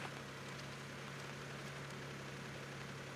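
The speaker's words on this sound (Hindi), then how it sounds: "साउंड की बात करें तो कुछ इतनी नॉइज़ बाहर आपको इसके इंजन से मिलेगी" A 2022 Maruti Suzuki Alto K10 VXI+ small car engine idles steadily with a low, constant hum and faint broadband rumble, heard alone at moderate distance from outside.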